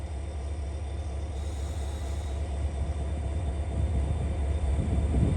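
Norfolk Southern P52 locomotives rumble steadily at Duluth, a low continuous engine drone with rising intensity as the train moves, heard close with no voices.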